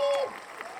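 Audience applause and noise greeting a featured band on a music mixtape show: a brief, dense wash of clapping that stays fairly loud throughout, with a steady tone over the start.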